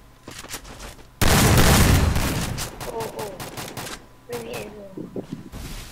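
A long loud burst of rapid gunfire in Garena Free Fire, with scattered single shots before and after it and a player talking over the action.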